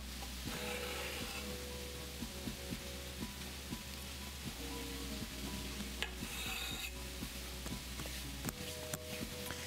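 Herbs and garlic cooking with vegetables in a pan, a faint continuous sizzle under repeated soft scraping and rubbing from stirring, quiet and uneven, with a low background hum.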